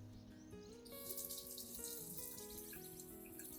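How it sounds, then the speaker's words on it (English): Clean tap water runs steadily over the root system of a Zamioculcas plant as old soil is washed away, a continuous bright splashing hiss with music playing in the background. "gently wash the root system under clean running water"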